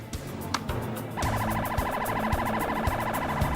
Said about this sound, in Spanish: Una patrulla de la policía y una ambulancia acuden a la escena.